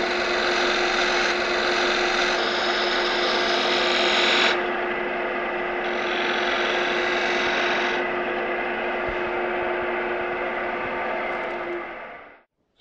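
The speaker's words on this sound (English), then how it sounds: "we are sharpening a fingernail grind which is much more versatile for its use" A European spindle gouge with a forged flute being ground to a fingernail profile on a sharpening machine, giving a continuous loud rasping whine with a steady tone that shifts as the tool is rolled, then spins down at the end.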